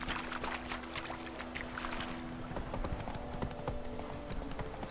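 Rapid, steady clip-clopping of horse hooves on hard ground in The Witcher 3: Wild Hunt, with a low sustained musical drone underneath.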